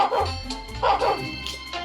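A dog barks a few times close by in short, yippy bursts that come in quick succession.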